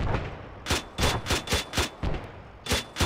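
Rifle fire pours into a tree line in ARMA 3, with about eight sharp, loud shots and short bursts coming at a fairly regular pace, close and punchy over a low background rumble. No talking.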